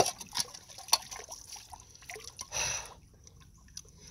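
Water drips and trickles as dirt is washed during gold panning in a creek, with splashy bursts and a louder slosh near the middle, fairly close and alone.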